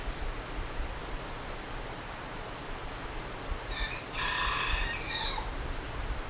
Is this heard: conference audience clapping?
no